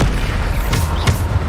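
Bombarda spell explosion from Hogwarts Legacy, a pair of booming blasts with crackling bursts over a steady low rumble of game combat, no talk.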